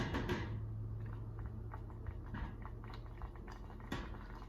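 Iroquois white corn porridge bubbling and thickening in a pot, with a steady low simmer and scattered soft pops and blips throughout, no talking.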